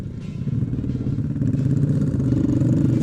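Motorcycle fitted with a loud GP3-style exhaust, a close rumbling engine with a fluttering low throb that builds slightly in loudness across the few seconds.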